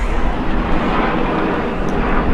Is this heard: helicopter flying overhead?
yes